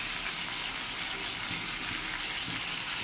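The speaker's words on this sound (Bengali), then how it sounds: "জলটা দিয়ে দেবো।" Water poured into a pan of vegetables with mustard during cooking, a steady broadband gushing and splashing that runs evenly for about three seconds, close and fairly quiet with no voices.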